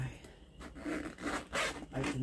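Zipper on a purple leather handbag with a recessed zipper panel and silver pull being drawn open in several close, scratchy rubbing strokes, with faint talk underneath.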